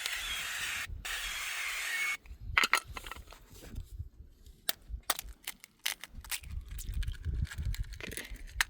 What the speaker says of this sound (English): So first of all, I'm going to spray the floor